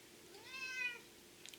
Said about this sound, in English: That's why she meows so much.